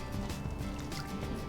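Heavy cream and 2% milk pour into a mixture for a s'mores cake in a mason jar, a short continuous liquid splash and trickle, close and fairly loud.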